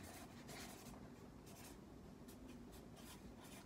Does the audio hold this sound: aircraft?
no